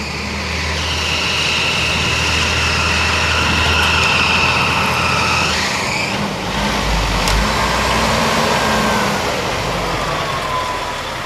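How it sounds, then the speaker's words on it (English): Car traffic in Peabody heard from the top of a hill, a continuous broad roar of passing vehicles with a rising whine and a deeper rumble sweeping through, steady and fairly loud with no talk. "all the sound of the cars just travels up"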